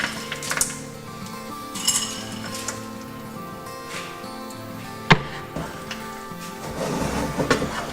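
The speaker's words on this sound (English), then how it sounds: "Give everything a good mix." A spoon clinks and scrapes against a bowl while a Maltese corned beef pie filling with frozen peas is mixed, with sporadic close knocks, one sharp clack, and soft stirring rustle, no talking.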